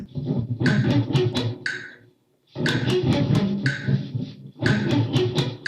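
Guitar sweep picking exercise played in three quick bursts of rapid arpeggiated notes separated by short silent breaks, close and clear with no talking.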